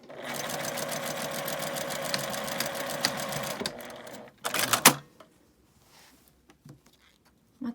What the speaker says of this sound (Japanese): ここで返し縫いをします。